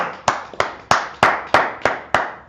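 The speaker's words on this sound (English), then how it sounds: "Let's clap it up for the brother and sister" A few people clap in slow unison, about seven sharp, evenly spaced claps ringing in a reverberant room, with no voices.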